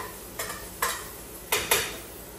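A utensil stirs ginger, garlic and other ingredients in a pan for Ilocano sinanglaw, four distinct scraping clacks against the metal over a soft steady frying hiss, close and alone.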